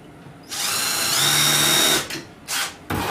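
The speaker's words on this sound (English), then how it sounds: "So that drills my pilot hole" Power drill boring a pilot hole for cabinet drawer slide screws in a kitchen cabinet build, a steady loud whine lasting about a second and a half, followed by two short bursts of the motor.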